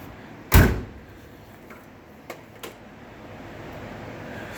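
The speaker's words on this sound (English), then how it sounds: "Get the door shut." The door of a 1970 Chevelle slams shut once with a loud, close thud, followed by a couple of faint clicks over a quiet background hum.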